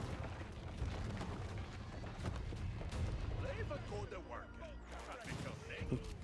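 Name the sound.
Ozutsu cannons firing at a palace in Age of Empires 4 video game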